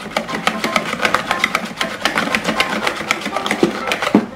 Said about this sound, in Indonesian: Ini roll tanpa mixer ya, jadi saya hand whisk kayak gini sendiri, manual.